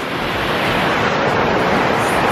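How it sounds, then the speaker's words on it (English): A waterfall on the Atherton Tablelands in Australia roars nearby as a loud, dense, unbroken rush of falling water, steady throughout with no voices. "We're halfway there, in the middle of the waterfall at the moment."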